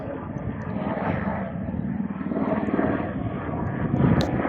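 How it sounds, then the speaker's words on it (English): A distant emergency helicopter drones steadily over a mountain landscape near Almaty, a low rumbling engine hum that swells slightly and stays far off, with no one speaking. "Most likely this is an emergency helicopter"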